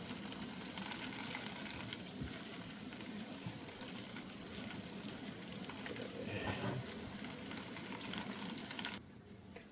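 Butter being stirred constantly in a hot pan, a steady soft sizzle and bubbling that runs the whole time with faint scraping, then drops a little near the end.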